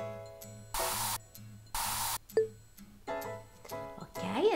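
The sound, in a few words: disinfectant spray in video game Cats and Dogs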